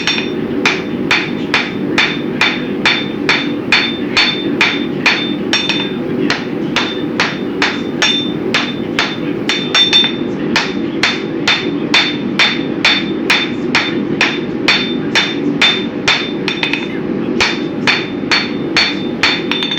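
Steady hammer blows ring out as a cable knife blade is forged into shape, its belly, tip and cutting edge worked on the anvil; loud, close, evenly paced strikes, roughly two per second, continuing without pause or speech.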